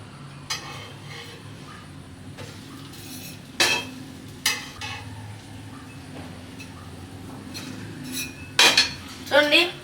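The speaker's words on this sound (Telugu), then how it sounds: "దీన్ని రోలర్ తోటి అయితే బ్రెడ్లను తిప్పేసుకుంటున్నాను." A bread slice flipped in a pan with a turner over medium flame: a few sharp metallic scrapes and clinks, loudest near the end, over a low steady sizzle and hum.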